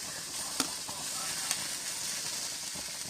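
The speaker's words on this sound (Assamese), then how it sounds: "হৈ গ'ল, এতিয়া গোটেইখিনি লৰাই দিব। ইয়াত এতিয়া কাটি থোৱা বিলাহীখিনি ঢালি দিছোঁ" Chopped tomatoes go into a hot frying pan for a potato veggie omelet, giving a steady close sizzle with a few sharp clicks of a spoon stirring against the pan.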